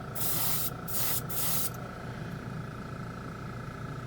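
Airbrush spraying acrylic candy paint over a gold base coat, a loud airy hiss in three bursts with brief gaps, then stopping, with no talk.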